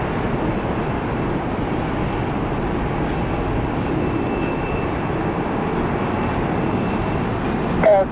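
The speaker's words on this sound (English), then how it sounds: "2866. Boeing 737-900." Boeing 737-900 airliner taxiing close by at Tampa International Airport, a steady broad engine roar and rumble holding throughout, with a brief brighter swell right at the end.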